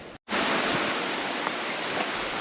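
Water roars constantly at Lakhaniya waterfall in the hills between Jaunpur and Mirzapur. It is a broad, continuous rush that starts after a brief drop to silence and then holds steady and fairly close.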